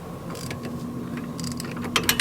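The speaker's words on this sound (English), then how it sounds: "Make sure you can get your wrench in there to where you can tighten it pretty good." Wrench working on a bolt of a C5 Corvette rear shock absorber: faint creaking mechanical clicks and scrapes in a steady low hum, ending with a few sharper ratchet-like ticks, close and without talk.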